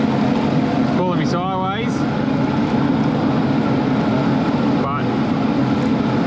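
Motorboat engine running in gear against a strong flood current on the swollen Nepean River, a steady close drone with water rushing, while someone speaks briefly over it.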